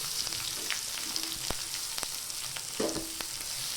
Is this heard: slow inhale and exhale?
no